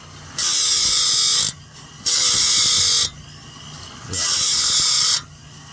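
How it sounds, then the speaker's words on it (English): A homemade bandsaw blade sharpener grinds in three steady bursts of about a second each, loud, bright and hissing, with short quiet gaps between passes and one brief spoken word. "you can hear how slow this sharpener is"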